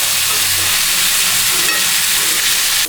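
Sliced radish sautéing in a pan for chutney, giving a steady, loud sizzle and hiss that runs unbroken throughout, with no voices.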